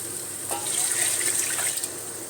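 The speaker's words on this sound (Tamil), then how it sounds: "இப்போ நம்ம தண்ணி ஊற்றிக்கலாம்" Water poured into a pot for mushroom biryani rice, a steady, close hissing splash running the whole time with no talk.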